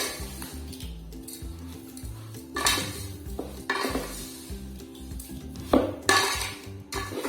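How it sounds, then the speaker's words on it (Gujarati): Carrot halwa with added milk stirred in a pan, a spoon scraping and clinking against the metal in a steady back-and-forth rhythm with a few louder knocks, close up and with no voices. "હવે આપણે એને હલાવી નાખશું."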